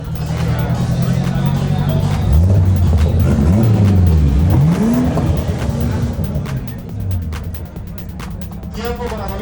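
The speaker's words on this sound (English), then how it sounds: "Now we have a duel between Stick Gonzalez and his BMW X3 M40i and Alfonso Beltran's Ford" Drag race cars, a BMW X3 M40i against a Ford Mustang GT, accelerate hard with loud rising and falling engine sweeps and tire noise, passing close over steady crowd and announcer background chatter.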